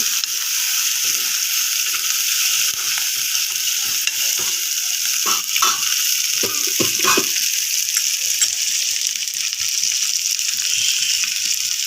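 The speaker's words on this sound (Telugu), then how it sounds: "టమాటా బాగా ఫ్రై అవ్వాలి" Tomatoes fry in a pan with garam masala, giving a steady, loud sizzle with scattered scraping clicks from stirring and no talk.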